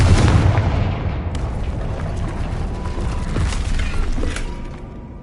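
Confringo and Bombarda spell blasts in the Hogwarts Legacy video game: a heavy booming explosion with shattering debris, followed by scattered crackling impacts and rumbling that slowly fade.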